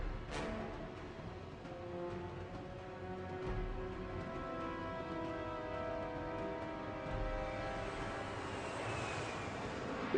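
An aircraft departs with a steady, droning engine roar that holds at moderate loudness throughout, with its tones gradually shifting, no voices.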